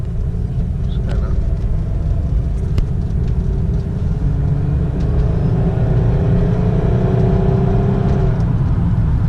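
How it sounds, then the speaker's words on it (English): A Pontiac Grand Prix GTP accelerates gently with performance shift off, a loud, continuous low rumble heard from inside, its engine tone rising smoothly partway through. "That's just like easing into the acceleration, like merging."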